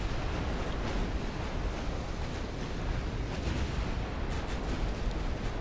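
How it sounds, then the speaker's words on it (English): Naval gunfire in Ultimate Admirals: Dreadnoughts, with heavy cruisers and battleships firing. Continuous booming salvos and rumbling blasts layer into a dense, loud wall of artillery throughout. "Everyone's just shooting at everything."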